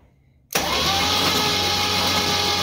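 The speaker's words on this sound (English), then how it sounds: "So let's crank her over and just see what we see." A supercharged car engine is cranked over and fires abruptly after a near-silent moment, then holds a loud, rough, steady running roar right up close.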